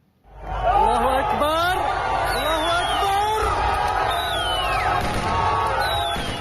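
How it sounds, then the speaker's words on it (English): A crowd in Hama, Syria cheers and yells as a statue of Bashar al-Assad's father is toppled, a dense, continuous roar of shouting, whooping voices close by; no distinct gunshots stand out. "people cheer and fire their guns toward the sky as a statue of President Bashar al-Assad's father is toppled in Hama."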